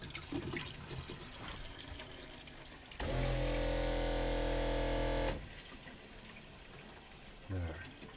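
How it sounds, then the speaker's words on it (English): Hot water tap running aboard a boat, a steady close gush for a few seconds that stops abruptly, with surrounding mechanical and cabin noise and a brief later sound. "I'm gonna run a little hot water."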